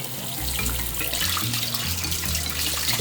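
Water runs steadily from a bathroom sink faucet as it warms, a continuous close splashing rush with a low hum beneath it and no other sounds.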